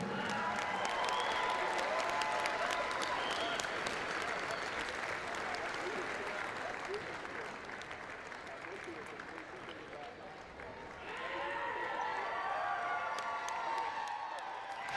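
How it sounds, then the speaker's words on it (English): At a UVU men's basketball game against CSUB, the arena crowd applauds the director of athletics with continuous clapping, cheers and whoops. The sound dips briefly in the middle, then swells again. "Ladies and gentlemen, a round of applause for Director of Athletics, Mike Jacobson."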